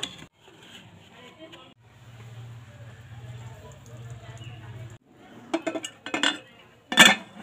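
Metal clinks and clatters as a stand and then a bowl of sponge cake batter are set inside a salted pressure cooker, with a quiet voice talking through the early part and a sharp clank near the end.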